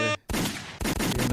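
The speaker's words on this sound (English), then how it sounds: "Nah, I need some gunshots for that." Rapid gunshots cracking in a dense burst, loud and close, cutting in right after a short tonal sound and continuing as a fusillade to the end.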